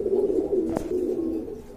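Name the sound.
pigeons cooing at a pigeon farm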